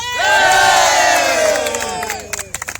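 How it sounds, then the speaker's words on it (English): Crowd cheering for a bagpiper at an independence march in The Hague, a loud burst of shouts and whoops that swells, then fades into scattered claps and yells. "can we have one big cheer for Duncan the Piper?"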